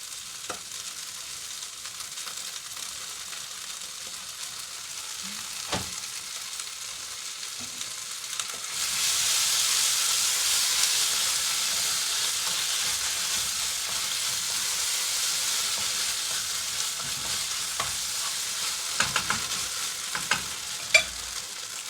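Tomato paste sizzles in a hot pan as it is stirred for a pumpkin caponata, a Sicilian dish; a soft scraping comes first, then a steady frying hiss that grows louder partway through, with occasional utensil taps.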